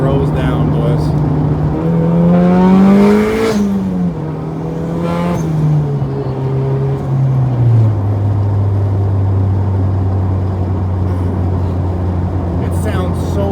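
A turbocharged Honda Civic engine revs up through the gears, its tone climbing and dropping with each shift before settling into a steady drone. Someone talks over it close by.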